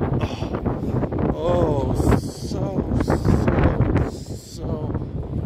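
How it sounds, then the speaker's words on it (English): Strong gusty wind buffeting the microphone outdoors, with a person talking over the roaring, rumbling noise. "So much wind today. It's unbelievable."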